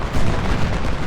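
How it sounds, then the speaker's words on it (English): Cannon and artillery fire in the Civil War strategy game Ultimate General: Civil War, a loud, close, rumbling volley of booms that fills the moment without any talking. "Artillery."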